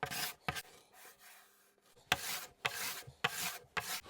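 Lacquer is stripped from a Höfner 489 acoustic guitar in bursts of rasping scraping on wood. The strokes are close and fairly loud, with short pauses between groups and no talk.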